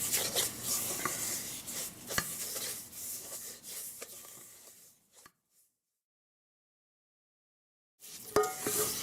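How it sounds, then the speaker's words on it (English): A spoon works coconut oil and buttery spread into crumbly date sugar for sweet potato brownies, close scraping and rubbing strokes against a bowl, then a silent gap before more scraping returns. "take the back of your spoon and just mix this right into the date sugar"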